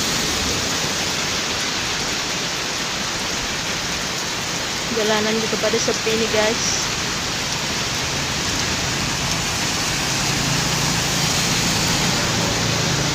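Heavy rain pours down steadily on a deserted street in strong wind, a broad loud wash throughout, with a person talking briefly in the middle.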